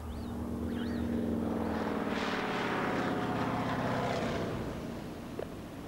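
A light aeroplane used to track elephants flies overhead, its propeller engine droning loudly and swelling in the middle before easing off, heard alone and fairly close.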